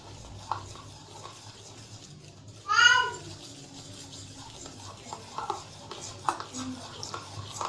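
A spoon stirs chocolate cake batter in a bowl, working it round at one steady angle, with one brief louder scrape or clink partway through and soft scraping otherwise.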